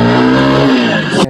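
A TVS Apache RTR 4V motorcycle engine revs in first gear, a loud steady drone that holds high and then drops off sharply near the end, with no talking.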